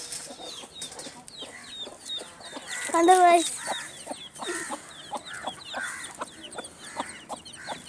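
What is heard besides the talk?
chicken chicks clucking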